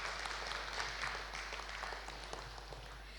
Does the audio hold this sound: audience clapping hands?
yes